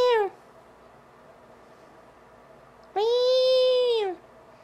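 A pet cat meows twice, close and clear: a short falling call, then after a pause a longer, louder drawn-out meow that bends down at the end, over a quiet indoor background.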